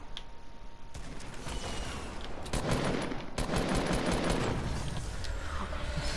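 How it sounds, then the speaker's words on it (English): Gunfire from a heavy sniper rifle aimed at a wall in a video game comes as a series of loud, dense bursts that run almost continuously, with no talking. "Shoot that wall with your heavy sniper."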